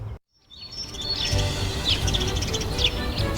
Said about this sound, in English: The birds sang a happy tune